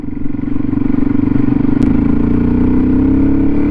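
A Suzuki DRZ400 motorcycle riding in fifth gear on an off-road trail, its loud, steady engine drone rising slightly in pitch, with wind rush and some clatter and no talk.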